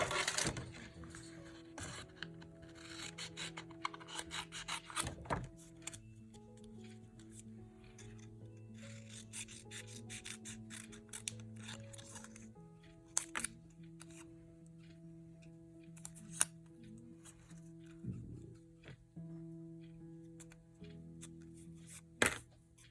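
Scissors snip a printed word out of a paper page for a book plate craft, giving faint, scattered close cuts and paper rustles over a soft background tone.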